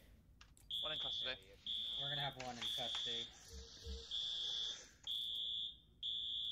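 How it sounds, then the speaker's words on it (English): Fire alarm in the game Arma 3 sounds in repeated loud, steady high-pitched buzzing bursts separated by short gaps, with people talking over it. "We have a guy pulling fire alarms up here."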